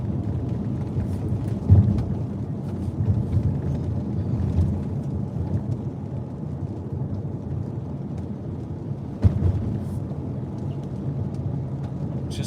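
Steady rain falls on a night street in downtown Little Rock, a continuous broadband hiss with low rumbling thunder and a couple of brief sharper cracks, distant-sounding and unbroken by any voices.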